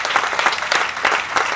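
A church congregation bursts into strong applause, lively uneven clapping from many hands with sharper swells and accents throughout, loud and close.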